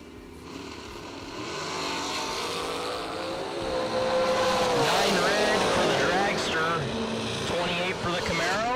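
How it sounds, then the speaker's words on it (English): At a drag strip, a Camaro and a Tunnel Ram dragster roar off the line, engine notes climbing in pitch and swelling louder as they accelerate away, with a voice talking underneath. "David Davis on the left side in the Camaro. Right side, driver not on file in the Tunnel Ram dragster."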